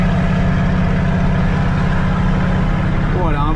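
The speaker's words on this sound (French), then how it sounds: "il y a un beau moteur sur la fraise devant là" A loader fitted with a front snow blower and chains runs its engine with a loud, steady, deep rumble close by, throbbing continuously, with a voice briefly audible near the end.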